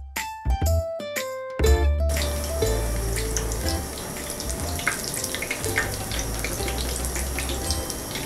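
Garlic pakoras frying in hot oil in a pan, a steady, dense hiss and crackle that begins after a couple of seconds of sharp knocks and continues loud and unbroken to the end.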